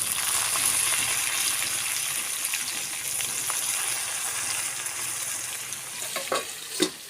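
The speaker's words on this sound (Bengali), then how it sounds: "এবার কাঁচা লঙ্কাগুলো আমার ভাজা হয়ে গেছে তেলে, এবার আলুটা নেড়ে দেবো।" Green chillies and fried potatoes sizzle in hot oil in a pan, a steady, close, bright hiss with occasional scraping clicks of stirring near the end, no talking.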